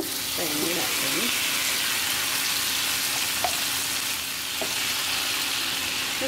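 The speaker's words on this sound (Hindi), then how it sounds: "ये चिकन को हमने जो दही वो लगा के रखा था इसे हम इस तरह से पैन में डालते हैं।" Yogurt-marinated chicken sizzles in hot oil in a pan for a Bombay-style biryani, a steady loud frying hiss throughout with a few faint stirring clinks.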